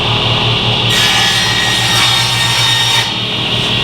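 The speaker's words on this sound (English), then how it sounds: "What I'm doing here is cutting the plywood panels for the ends of the toolbox" A saw cuts plywood panels for the ends of a workbench, giving a loud, steady, close buzzing cut that holds throughout and changes pitch slightly partway through. There is no talk.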